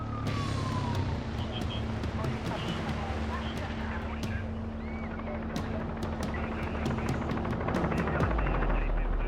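Sirens wail faintly in the distance beneath loud wind and rumbling noise, with sharp clicking bursts scattered throughout.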